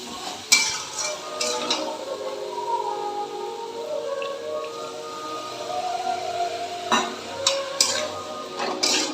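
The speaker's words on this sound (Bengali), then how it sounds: "ভালো করে মিশিয়ে নেব" Spices being stirred into a vegetarian banana-stem curry in a pan, with spoon clinks and scrapes against the metal and occasional sharper knocks over a steady soft background, no talk.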